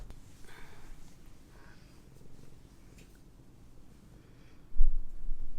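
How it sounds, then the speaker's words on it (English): A cat purrs softly and close up in a low rumbling rhythm, with a louder snuffling burst near the end. "He's purring."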